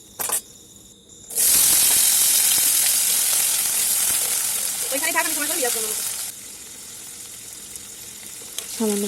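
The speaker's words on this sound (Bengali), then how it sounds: "আমি ওই কড়াইতে কেটে রাখা আলুগুলো ভেজে নেব।" Cut potatoes drop into hot oil in a wok and sizzle loudly and steadily, the hiss easing slightly over time, with brief faint voice-like tones partway through.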